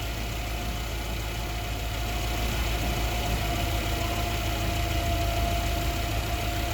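A car engine idles steadily on its own, a continuous low rumble with a faint knocking texture, running lean only at idle.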